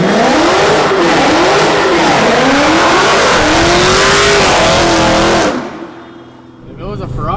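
A car engine revving and accelerating hard nearby, its pitch rising and falling in waves through gear changes before dropping away abruptly and giving way to a quieter engine tone.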